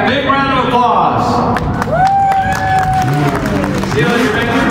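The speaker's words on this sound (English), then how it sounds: "Once again, a big round of applause." Crowd applause and cheering at the 2023 Barrett-Jackson car auction fill the space, steady and loud, with voices calling out and a long whistle-like tone rising over the noise.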